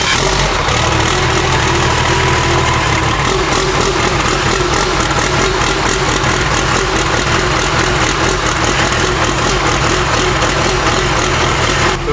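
A 1000hp Cummins diesel burnout truck engine cranks over and settles into a loud, steady running rumble that holds constant throughout, with no talking over it.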